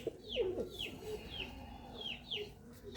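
Pigeons coo repeatedly in soft, rolling phrases, several calls overlapping at close range over a low, steady background hum.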